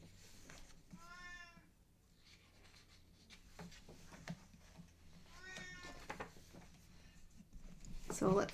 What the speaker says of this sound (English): My cat is complaining.